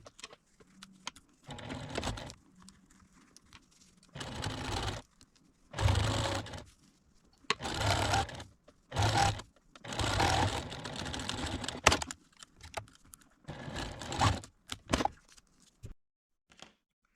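A sewing machine stitches an elastic casing on a fabric garment bag in several separate bursts of whirring, each lasting one to two seconds, with quiet pauses between the runs.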